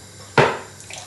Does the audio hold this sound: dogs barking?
no